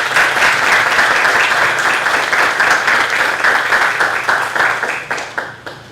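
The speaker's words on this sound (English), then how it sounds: "Let's give them a round of applause." Loud, close applause from an assembled audience, many hands clapping in a dense, steady burst that thins into scattered individual claps and fades over the final second.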